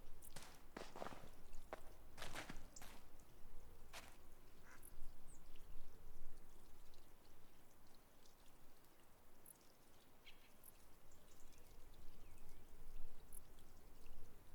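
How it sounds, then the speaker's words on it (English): A pressure washer sprays water steadily in Powerwash Simulator 2, producing a faint continuous hiss with a few sharp clicks and splashes near the start. "I also like how dynamic the sound of the water is."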